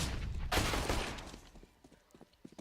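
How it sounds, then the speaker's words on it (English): Loud burst of rifle fire in a Counter-Strike esports match, a dense volley followed by scattered single shots and clatter fading off, with game effects underneath. "What was that headshot from Snacks?"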